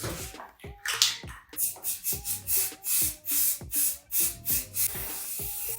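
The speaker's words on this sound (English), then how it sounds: "I'm using an extra piece of paper to prevent overspray on the shelves as I spray each of the pipes" A can of metal primer sprays onto the metal pipes of a shelf. Short hissing bursts repeat in a steady rhythm, close and fairly loud, with a recurring tonal sound in the background.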